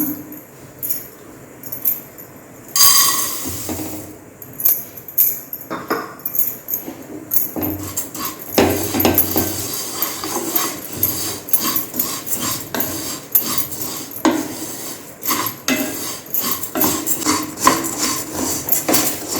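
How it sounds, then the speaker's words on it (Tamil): Poha dry roasted in an empty kadai for aval laddu; a spatula scrapes and clinks against the metal pan in a steady, irregular rhythm, with dry flakes rustling close by. "வெறும் கடாயில் அவ்வளோ வறுத்து எடுத்துக்கலாம்"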